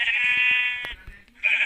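A sheep in a Minecraft-style video game bleats in two clear, close, nasal calls separated by a short gap, with no talk heard.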